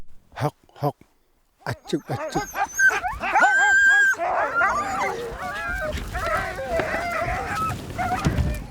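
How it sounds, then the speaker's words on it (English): A big team of Arctic hunters' sled dogs barks, yips and whimpers in a close, busy chorus, with overlapping cries building into continuous noise after a few sharp early barks. "These hunters have big dog teams."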